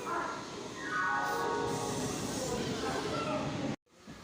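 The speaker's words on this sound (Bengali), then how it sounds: "তো আমাদের 4:24 ব্যান্ডেল হাওড়া লোকাল এসে গেছে" A Bandel–Howrah local train stands at a station with a loud, continuous rumble and hiss, while a falling whine slides down and settles into a steady hum before the sound cuts off abruptly near the end.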